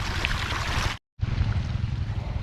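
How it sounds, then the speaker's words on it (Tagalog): Irrigation water pours and rushes steadily across a farm field, a broad continuous flow close by, briefly cut off for a moment before resuming. "Bali pinapatubigan po natin yan."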